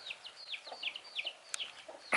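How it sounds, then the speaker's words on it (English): Chickens in a Thai village cluck and chirp in short, quick calls, fairly faint and close, with a couple of sharper knocks near the end. "So chickens kind of disturbed me,"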